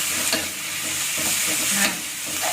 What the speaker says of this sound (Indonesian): Kita aduk rata, apinya dibesarkan sedikit. Kita aduk sampai tomatnya itu agak layu ya.